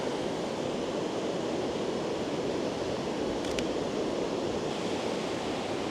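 Ocean waves wash steadily onto the shore in a continuous broadband surf hiss, with wind buffeting the microphone and no voices.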